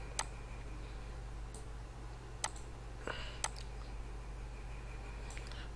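Computer mouse clicking while opening pension forms on a website: several sharp, separate clicks at irregular intervals over a constant low electrical hum, with no talking.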